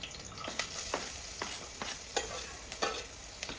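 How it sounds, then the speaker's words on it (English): Oil sizzles steadily while shallots and ribs are stirred and tossed in a pan, with periodic scraping clinks at a regular pace, close up. "Once the oil is hot, I fry some shallots until they are fragrant, then toss the ribs in."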